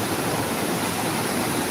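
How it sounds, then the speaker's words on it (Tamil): Fast-flowing water of the Kaveri river rushes steadily with a broad, continuous roar, loud and close, with no voices. "எவ்வளோ ஃபாஸ்ட்டாக போயிட்டுருக்கு பாருங்கள் தண்ணி"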